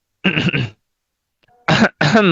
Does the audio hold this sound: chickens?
no